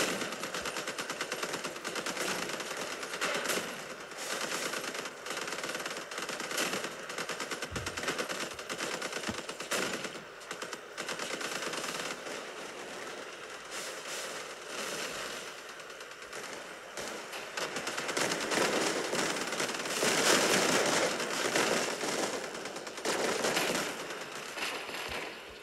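Machine gun fire in the vehicle combat game Crossout Mobile, a long, steady rattle of rapid bursts amid engine and battle noise that swells louder toward the end.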